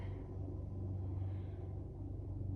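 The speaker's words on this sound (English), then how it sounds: "so sorry if you hear the lawnmower in the background." A lawnmower drones in the background with a low, steady engine rumble that runs unbroken and fairly faint, with no one talking over it.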